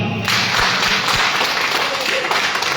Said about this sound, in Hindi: मैं चाहूँ अपने लिए एक जोरदार ताली